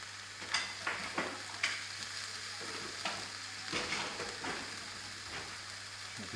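Lemon sole fillet frying in a pan, a steady soft sizzle with scattered clicks and light scrapes of a spoon, fairly close and moderately quiet throughout.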